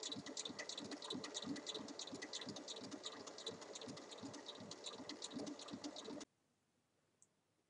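Sewing machine stitching the side seam of a fabric cushion cover, a faint steady whirring run of stitches that stops abruptly near the end.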